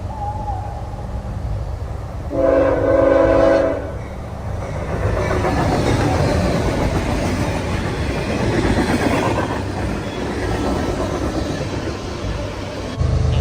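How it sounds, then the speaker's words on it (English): A CN ethanol freight train rumbles past up close with a steady roar and clatter, a loud two-tone horn blast sounding early on before the rolling noise continues. "A flying CN U713, which is an ethanol train."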